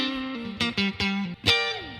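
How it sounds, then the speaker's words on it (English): Guitar played through the spring reverb of a Dream '65 Reverb amp sim pedal: a short run of sustained, distinct notes, each trailing off into a splashy reverb tail, loud and alone. "So that's the reverb."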